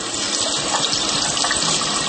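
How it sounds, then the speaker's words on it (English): Water gushes steadily from a running tap, giving a loud, close, continuous hiss and splash with no pauses or voices. "Sorry about the water running."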